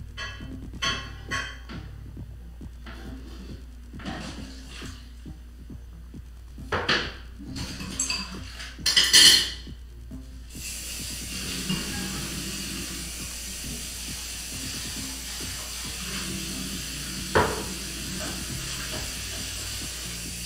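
Dishes, pots and cutlery clatter in a family kitchen at dinner time, scattered clinks and clanks with running water and background hiss, faint and intermittent.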